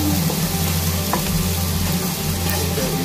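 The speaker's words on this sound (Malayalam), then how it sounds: "എണ്ണ ഒഴിച്ച് അതിലോട്ട് നേരത്തെ വളരെ കഷ്ടപ്പെട്ട് കട്ട് ചെയ്ത കരഞ്ഞുകൊണ്ട് കട്ട് ചെയ്ത സവാള ഇടുന്നു" Sliced onions frying in hot oil, a dense, constant close-up sizzle that stays loud and even for the whole few seconds, with no talking.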